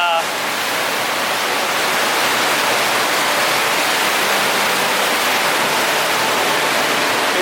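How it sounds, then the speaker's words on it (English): Water rushes steadily through a rapids ride at Phantasialand theme park in Brühl, Germany, a loud, continuous broadband roar with no clear breaks, heard close by and without any talking. "I've always been fascinated by this rapids because it's"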